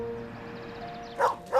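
A dog lets out two quick, loud barks in a Nissan Rogue car commercial, sharp yips near the end over a quiet tonal background music bed.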